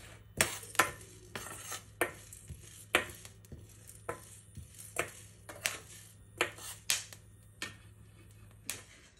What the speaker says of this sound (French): On va faire revenir quelques minutes à feu doux jusqu'à que vous entendez des petits éclatements